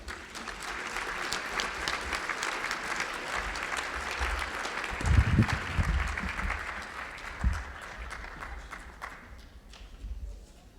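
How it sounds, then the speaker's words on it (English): Audience applause at a gala, a sustained round of clapping from a large crowd with a few nearby thuds, slowly tapering off toward the end. "let's give them another round of applause."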